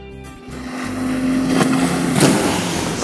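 Boston Whaler 270 Dauntless boat with twin 225 outboard motors throttling up on open water, a steady engine drone building in strength with wind and splashing water around it.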